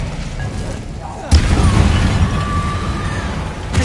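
An Expelliarmus spell cast in a video game lands as a sudden booming burst with a crackling, rushing tail, loud and close, followed by sustained rumbling game effects and a second sharp hit at the end.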